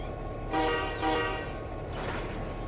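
Diesel locomotive in the Run 8 train simulator game pulling forward during yard switching, a steady engine rumble with two swelling throttle surges and a third rise, no voices.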